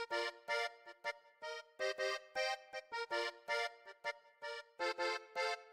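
A plucked Koriana melody in FL Studio, its bright tonal notes played in short bursts with gaps between phrases, a clear repeating line with no talk over it.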